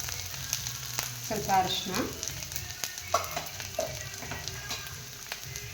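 Masala with turmeric frying in a pan for egg curry, a steady soft sizzle with a few stirring scrapes, under a woman's brief speech.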